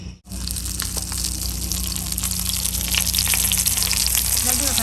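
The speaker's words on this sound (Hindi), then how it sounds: "मैंने कहा चलो ये भी फ्राई कर लेते हैं।" Nuggets and samosas fry in oil in a kadai, a dense continuous bubbling sizzle that starts abruptly and stays loud and close, with faint voices underneath.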